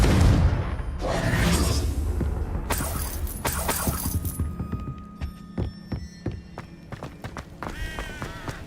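In Hogwarts Legacy, a Confringo fire spell blasts at a target. A loud burst opens, then a string of shattering impacts and crackling hits fades into scattered clatter.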